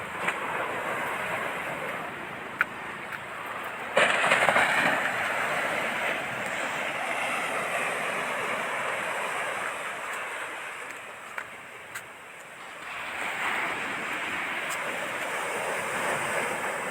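Ocean waves rolling onto Varkala Beach make a steady, broad wash of surf, loud and continuous, with a brief rougher surge partway through and no voices.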